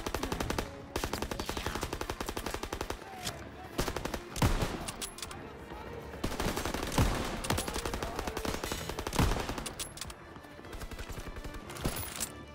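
Dense, rapid automatic gunfire in the Call of Duty WWII video game, bursts aimed at the player and rattling almost continuously with a few louder individual shots standing out, loud and close.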